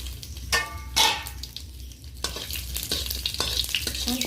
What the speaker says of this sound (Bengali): এই পর্যায়ে আমি 3টে শুকনো লঙ্কা আর 3টা তেজপাতা দিয়ে দিলাম